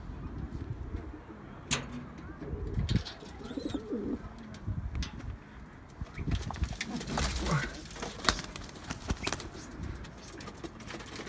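Pigeons coo softly among fluttering and faint chirps in a loft where young birds are being flown, with people talking intermittently over them.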